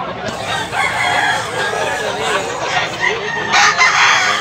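Chickens and roosters for sale at a Tabunok, Cebu poultry market cluck steadily while a rooster crows loudly close by, with a louder burst of calls near the end and no talking.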